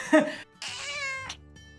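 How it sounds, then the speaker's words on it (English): A cat meows twice up close, a short cry followed by a longer drawn-out meow, with faint background noise. "Sorry about my cat now eating. She just keeps making noise."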